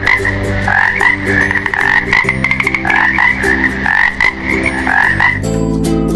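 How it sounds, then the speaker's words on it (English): A frog croaks in a rapid repeated rhythm, loud and close, over a steady musical backing with no voices. "Frog."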